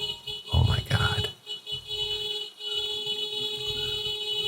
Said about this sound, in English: That is the most aggressive beep I've ever heard.